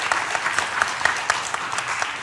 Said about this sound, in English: We need to have a warm round of applause for Dr.